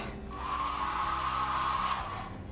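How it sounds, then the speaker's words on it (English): A hair dryer in a ferry cabin blows with a steady, close whirring hum for a couple of seconds, starting and stopping abruptly. "we have a hair dryer in the room"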